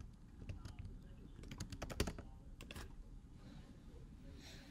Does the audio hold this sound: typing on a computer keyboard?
yes